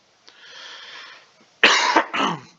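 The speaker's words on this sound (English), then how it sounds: "coughing for the first time, thanks to the Omicron variant" A single person gives a faint breathy rasp, then two sharp, loud coughs in quick succession, close and alone, from an illness attributed to the Omicron variant.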